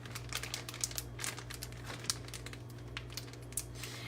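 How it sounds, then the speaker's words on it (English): Plastic bag holding pinecones squeezed and crinkled up close, a steady run of soft crackling with sharper crinkle bursts, faint and alone with no talk. "You're gonna want to put them in together in the plastic bag."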